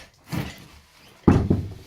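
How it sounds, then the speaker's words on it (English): A room door in a house, one soft knock or thump followed a moment later by a louder bang and rattle as the door is handled and opened, close by with no talking. "I'm just going to go into this room and just knock on this door here"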